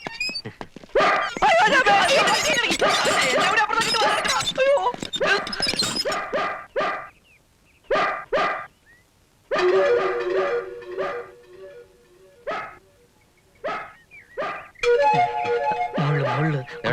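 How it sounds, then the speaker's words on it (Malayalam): A dog barks in repeated bursts near a gate on a terrace, mixed with people talking close by. The loud, uneven sounds come in clusters with short silent gaps between them. "പട്ടി കടിക്കോ ഒരയ്ക്കുന്നോണ്ട് ചോദിച്ചതാ"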